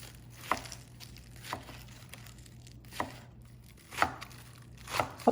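A knife chops scallions on a board in soft, irregular strikes spaced about a second apart, fairly quiet and close, with no talking.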